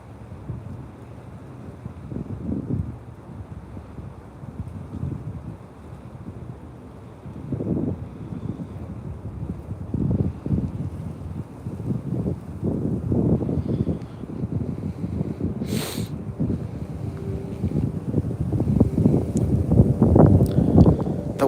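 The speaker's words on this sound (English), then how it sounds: "the wind is so brutal" Strong wind buffeting a microphone outdoors while bass fishing, loud rumbling gusts in repeated surges that build stronger toward the end, with a brief sharp click partway through.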